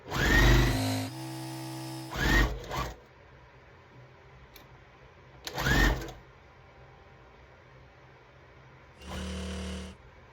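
A sewing machine stitching scrap fabric strips together runs in several short close bursts of whirring motor, separated by quiet pauses.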